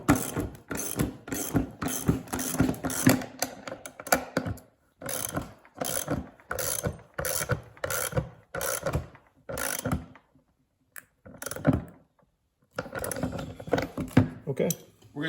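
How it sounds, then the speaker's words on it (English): A ratchet and a 3/4 inch wrench tighten a nut on a RZR 900 side-by-side, producing bursts of rapid, close clicking strokes separated by brief pauses. "So tighten this up, 3/4 inch wrench and a ratchet here."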